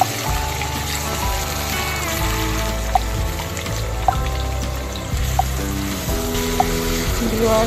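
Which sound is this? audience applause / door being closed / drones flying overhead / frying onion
frying onion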